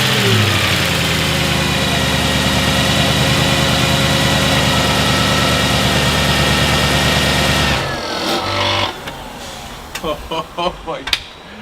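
Mercedes-AMG car engine running loud and steady at idle with a deep harmonic drone, cutting off about two-thirds of the way through, followed by a few brief clunks and knocks.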